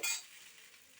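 Soru pitha batter sizzles on a hot tawa griddle in a home kitchen, a sharp hiss at the start that settles into a softer, steady frying crackle, close and alone.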